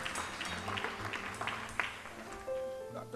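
Clapping from a church worship-night congregation mixes with music and background voices, moderate and somewhat uneven, with instrumental tones and chatter running beneath the applause.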